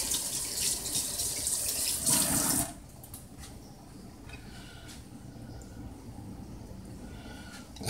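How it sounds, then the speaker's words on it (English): A kitchen tap runs for about two and a half seconds while hands are washed, a close, steady hiss of water. It stops abruptly and is followed by quiet room tone and faint handling noises. "let me wash my hands here"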